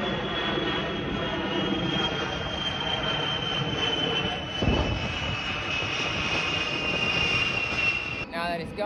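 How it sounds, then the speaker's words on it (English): A big military plane passes overhead during an outdoor ride on Davis Island, its loud, steady engine roar filling the whole stretch and swelling briefly midway before easing off at the end. "what is passing right now is a big plane, a big military plane."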